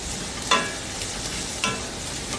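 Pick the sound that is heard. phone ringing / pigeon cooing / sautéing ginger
sautéing ginger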